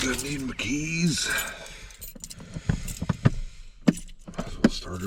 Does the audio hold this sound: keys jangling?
yes